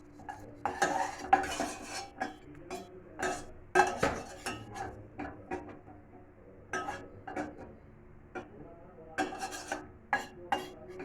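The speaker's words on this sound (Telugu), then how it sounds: "ఈ కలర్ వచ్చేసరికి గోధుమ రంగు కలర్ వచ్చే వరకు వేయించుకోవాలండి నెయ్యిలో" A spoon scrapes and clinks in a pan while raisins, almonds and cashews fry in ghee, giving a series of irregular metallic taps and scrapes at close range over a faint sizzle.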